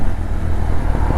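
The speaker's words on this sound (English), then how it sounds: "Nice old MG." An old MG car rolling past nearby, a steady low rumbling engine and road noise filling the moment, loud and continuous with no voices.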